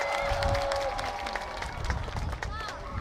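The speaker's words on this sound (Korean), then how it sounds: "큰 박수 부탁드릴게요" A festival crowd applauds a K-pop group with a steady wash of clapping and cheering, while voices and music carry on underneath.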